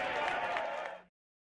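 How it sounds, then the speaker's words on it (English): A short burst of light applause and clapping from a small crowd, steady for about a second, then cutting off abruptly into silence. "You get the light claps."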